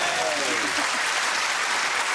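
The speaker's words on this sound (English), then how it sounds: "Very, very lukewarm round of applause." A studio audience on a comedy quiz show gives a dense, even wash of applause that holds steady for a couple of seconds, with a voice speaking briefly at the start.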